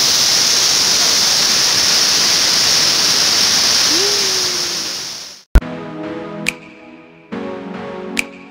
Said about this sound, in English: I've already reached the waterfall. It's so, so pretty.